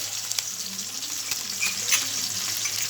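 Ginger stirred into a frying mixture in a pan, a loud, close, continuous sizzle broken by light spatula taps and scrapes.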